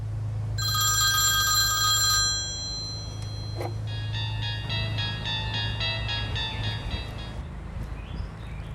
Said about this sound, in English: A fun family video project is interrupted by a ringing phone.